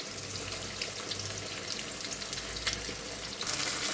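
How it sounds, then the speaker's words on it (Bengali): Pieces of katla fish fry in hot oil in a pan, giving a steady crackling sizzle with bursts of spattering and a swell of louder hissing near the end, heard close with no talk. "মাছগুলো ভাজা হয়ে গেছে"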